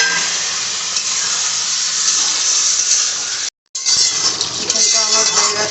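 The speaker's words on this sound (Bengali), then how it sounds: "জল দিয়ে দিই।" Chicken sizzles loudly in a pan after water is added, giving a close, steady hiss and crackle that drops out for a split second before resuming with faint stirring clinks.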